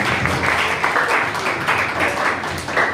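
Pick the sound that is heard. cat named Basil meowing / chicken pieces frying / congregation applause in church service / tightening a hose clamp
congregation applause in church service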